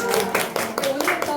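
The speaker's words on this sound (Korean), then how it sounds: "서로 박수" Audience clapping at a guest lecture event, a short burst of applause from a gathered group with broadband hand claps throughout, fairly close and steady.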